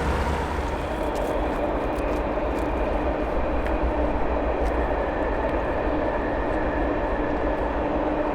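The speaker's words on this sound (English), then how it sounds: "There's a train coming over here." A train rumbles steadily past near a river in the Alberta mountains, a continuous broad roar with rail clatter that holds at a constant loud level throughout, with no voices.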